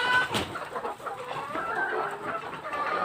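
Chickens clucking steadily at close range in a farmyard as hens are let outside early in the morning, with overlapping calls and a faint rooster-like note, no talk.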